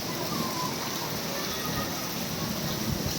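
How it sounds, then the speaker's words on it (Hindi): Heavy rain lashes down in strong wind, a dense, continuous hiss filling the whole stretch, close and loud. "बहुत तेज़ बारिश है।"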